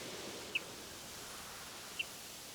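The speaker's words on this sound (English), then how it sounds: "that was a water rail, wasn't it?" Two brief, faint high-pitched water rail contact calls sound about a second and a half apart over a steady background hiss.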